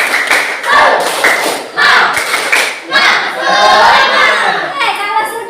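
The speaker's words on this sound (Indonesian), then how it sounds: "Tepuk semangat dulu." A standing school class claps a rhythmic spirit clap in unison, loud, close bursts of patterned hand claps with brief pauses between the phrases.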